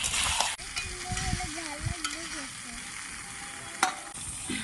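Country rooster curry with a deep red gravy is stirred and sautéed in a pan in a village kitchen, giving a steady close sizzle with scraping strokes and a few sharp clinks, and a thin tonal whine runs through the middle.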